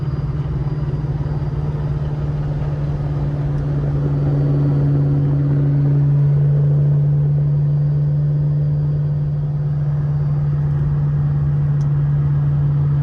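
A 1-owner 2004 Ford Mustang Cobra SVT with 12K miles and 750 hp, its engine droning steadily while driving, a deep continuous hum that rises slightly in pitch midway and then settles, with no voices.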